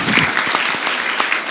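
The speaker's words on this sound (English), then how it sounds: "Let's give them a round of applause again." Audience at a city council meeting applauding, a brief steady burst of dense clapping from a room full of people.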